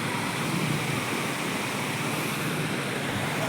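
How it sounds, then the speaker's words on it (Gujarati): Heavy monsoon rain pours down over farm fields in a dense, continuous hiss and roar with no breaks. "વરસાદ ધોધમાર વરસાદ થઈ ગયો મિત્રો"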